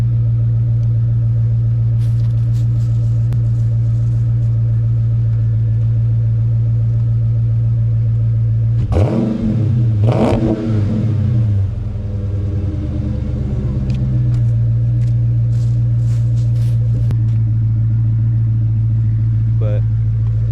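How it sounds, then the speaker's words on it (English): A 2013 Dodge Super Bee SRT8 engine idles with a steady low rumble, then revs sharply twice in quick succession before settling back to idle, close and loud, with someone talking over parts of it. "Engine sound healthy and everything."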